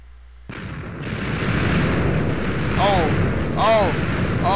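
A Minecraft TNT blast on a parkour map: a sudden loud boom that swells into a sustained roaring rumble lasting several seconds, with a voice briefly exclaiming over it.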